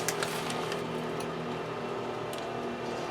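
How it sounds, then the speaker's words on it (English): A Weesta air fryer oven's convection fan runs as a steady, moderately loud whir with a low hum, joined by faint ticking clicks near the start and again toward the end. "Now guys, you hear the air fryer convection fan in there going."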